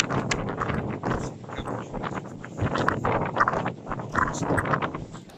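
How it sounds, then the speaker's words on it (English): Strong coastal wind at Battery Point Lighthouse in Somerset, gusting and buffeting the microphone in uneven surges, with scattered clicks and knocks from handling, no talk. "Really difficult conditions at the moment, very, very windy."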